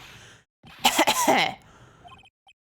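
A short, harsh cough burst with throaty rasp in Phoenix Wright: Ace Attorney – Trials and Tribulations, followed by a few faint electronic blips, like a game sound effect.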